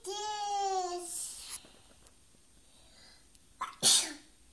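A toddler of about two sneezes sharply once near the end, a short breathy burst after a brief inhale, following a child's babbling at the start in a quiet room.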